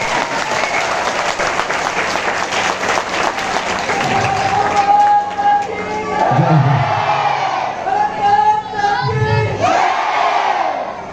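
A crowd applauds at a garba event in Bangalore. Dense, loud clapping fills the first few seconds, then gives way to cheering, whoops and raised voices from the audience.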